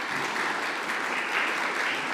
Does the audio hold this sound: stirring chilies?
no